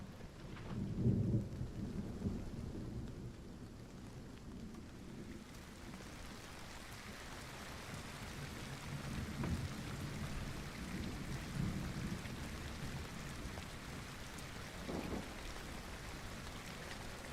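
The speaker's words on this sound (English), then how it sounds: "I'm so happy it's raining" Rain and rolling thunder in a video game, with a heavy thunder rumble early on and further low rumbles later over a steady hiss of rainfall, fairly quiet overall with no talking.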